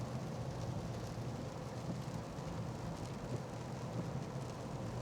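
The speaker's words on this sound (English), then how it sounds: "So it's raining harder." Steady rain drums on a car parked in a free car wash bay, a dense continuous patter with low rumble beneath, no voices.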